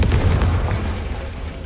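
A Confringo fire spell from the Hogwarts Legacy video game explodes in a loud, sustained boom with a heavy low rumble and crackling blast noise lasting throughout, no talking.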